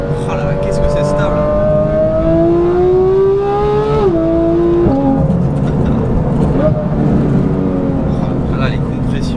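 Porsche GT3 with an aftermarket exhaust revving hard while driving, its engine note climbing in pitch through gears with sharp drops at shifts, loud and close inside the cabin, with people talking over it.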